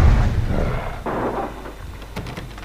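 Stormy weather in the video game Alan Wake, a heavy rumble of thunder fading into steady rain and wind, loud at first and then settling into a softer wash.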